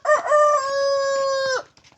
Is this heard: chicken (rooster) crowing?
yes